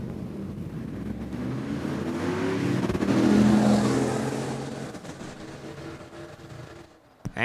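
Drag race at Saskatchewan International Raceway in Saskatoon between a Trans Am and a convertible Mustang, with engines roaring and swelling to a loud peak mid-run, then fading away as the cars pull off down the strip.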